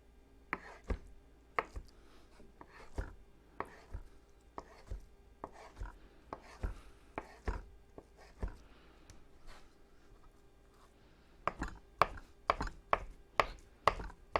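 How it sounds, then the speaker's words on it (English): A knife cuts tofu into strips on a board, giving a long run of quick, sharp chops in irregular bursts with short pauses, close and fairly quiet, no talking. "I'm going to cut them"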